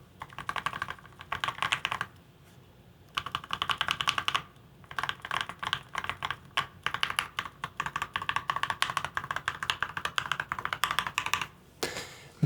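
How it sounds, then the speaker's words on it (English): Typing on a Think 6.5 mechanical keyboard fitted with Tealios V2 switches, a steady stream of soft, close, buttery keystrokes in bursts broken by brief pauses, with no voice. "Very, very buttery keystrokes."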